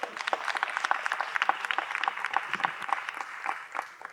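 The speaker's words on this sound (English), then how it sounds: "yes, you can clap for that" A conference audience at the NAACP annual convention's closing plenary session claps in a sustained, fairly distant round of applause, with no speech over it.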